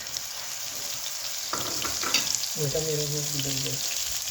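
Garlic frying in a pan for smoky beef kofta, a steady close sizzle joined midway by clinks and a tonal scrape or squeak of a spoon against the pan.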